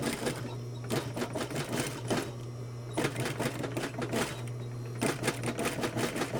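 Sewing machine stitching a shirt cuff, a 1/4-inch or edge stitch, running in steady rapid bursts with short pauses and restarts, close and fairly loud with no talk over it.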